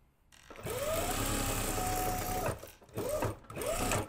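A sewing machine stitches a jacket lining up close, running in one fast steady whir for about two seconds, then stopping and giving two short bursts with a rising and falling motor whine.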